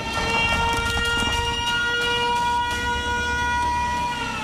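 Air raid sirens wail steadily across cities in Israel during missile attacks, with a drawn-out tone, layered over a low rumbling background throughout.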